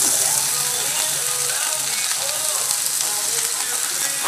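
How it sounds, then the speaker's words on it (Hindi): Potato pieces fry in hot oil with garlic and green chili for methi aloo sabji, a loud, dense, continuous sizzle and crackle close to the pan, with no talking over it. "इसी में आलू डाल के मैं फ्राई करती हूँ"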